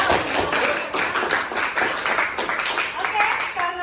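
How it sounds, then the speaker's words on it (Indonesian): Classroom students clap together for a classmate, a steady burst of many hands clapping close by for several seconds, with some voices mixed in. "Kasih tepuk tangan yang meriah untuk Nova."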